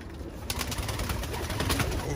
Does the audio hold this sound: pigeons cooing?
yes